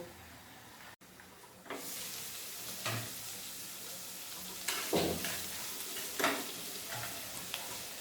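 Chilli chicken with green chillies sizzles and fries steadily in a pan after a brief quiet start, with occasional stirring scrapes and louder bursts of hiss, close and continuous with no talk.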